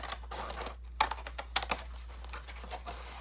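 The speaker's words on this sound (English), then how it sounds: "So I'm just going to cut this end off." A blade cuts the end off a cardboard box in a series of short crisp snips and scrapes, close up and fairly quiet, with no talk.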